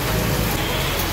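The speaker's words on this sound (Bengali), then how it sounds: "আর বাইরে এরকম বৃষ্টি," Steady rain falls outside a bike and car wrapping shop, a dense continuous hiss with low traffic-like rumble beneath, close and even throughout with no voices.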